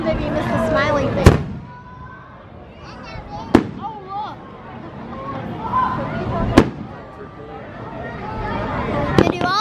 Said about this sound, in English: Oh, look! They do all these fireworks,